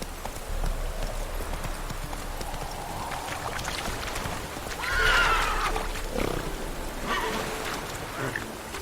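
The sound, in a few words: horse galloping in the video game Witcher 3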